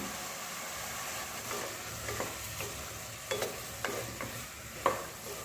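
Fish curry frying and sizzling in a pan as cut potatoes go in, with a steady hiss broken by several louder stirring scrapes and clinks near the end.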